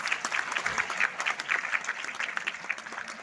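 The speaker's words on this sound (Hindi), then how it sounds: "तालियां बजती रहती हैं" An audience at a school quiz round claps steadily, a dense patter of many hands heard fairly close and continuing without a break.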